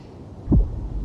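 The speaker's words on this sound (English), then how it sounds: "Finan's heartbeat." In Honkai: Star Rail, a single deep, muffled heartbeat thump sounds over a low, steady hum.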